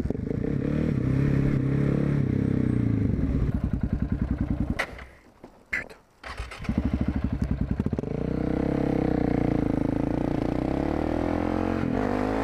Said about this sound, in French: je me retrouve sur une KTM 690 SMC, donc un super motard